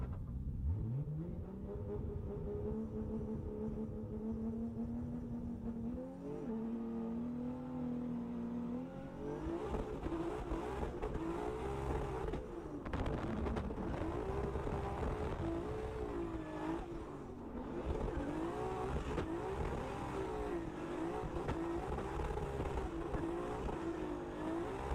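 Car engine in GTA revving up from idle, rising in pitch through the gears, then holding a sustained, wavering high-rpm roar with throttle blips and repeated revving; moderately loud with no talking.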